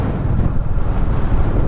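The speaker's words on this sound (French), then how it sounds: "il y a énormément de vent" Strong wind buffets the microphone during a ride on a Royal Enfield Bullet 350, a loud, low, churning rumble with no speech.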